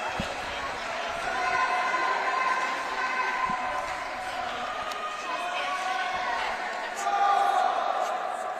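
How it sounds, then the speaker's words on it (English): A crowd cheers steadily on the pool deck during the final leg of a high school swim meet between OA and Canton, a dense roar that swells toward the end, with voices talking over it. "Everyone's cheering on this last Canton swimmer"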